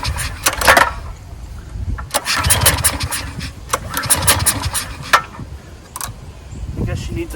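A 14-year-old Briggs and Stratton generator, left sitting for over five years, is cranked with the choke on. Several rough, sputtering bursts of starting attempts come in uneven pulls, close and fairly loud, with short pauses between them.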